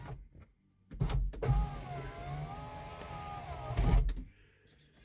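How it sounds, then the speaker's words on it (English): Power window motors whir on a 2003 Volkswagen Beetle convertible, a close, steady whine lasting about three seconds, bracketed by a few clunks as the glass starts and stops. "the windows are working."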